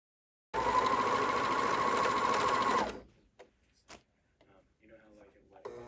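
A sewing machine runs a fast, steady whirring stitch for about two and a half seconds while basting a 3/8-inch seam on a turtleneck top, then stops, leaving a few soft clicks and handling noises.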